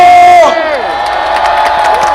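A loud crowd at a Korean political rally roars and cheers all at once after a voice cuts off, a sustained wall of shouting and whooping.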